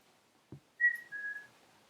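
A person whistles a short tune in a quiet room, two clear sustained notes, the second slightly lower, following a soft thump.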